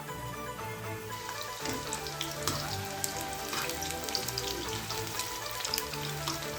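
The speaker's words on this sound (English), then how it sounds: "then fry it until it's golden brown in color" Battered chicken pieces frying in hot oil for Kolkata-style Indo-Chinese chilli chicken, a steady dense sizzle and crackle with scattered pops throughout, close and continuous with no talking.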